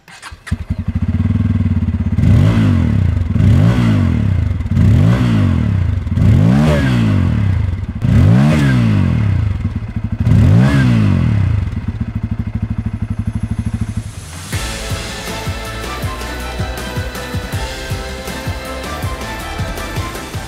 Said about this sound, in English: let us hear how does this new 250cc engine sound